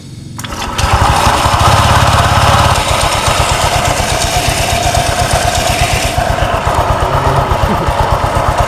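A Honda Vario 125 scooter engine that had run rough at idle starts up and settles into a steady, close, loud idle with a fast even putter and no talk.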